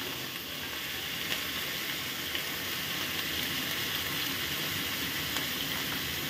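Raw green banana and potato pieces fry in a pan with a steady, even sizzle throughout, faint scraping hinting at stirring, with no voices.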